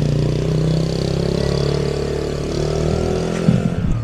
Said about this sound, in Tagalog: Hirap ang motor.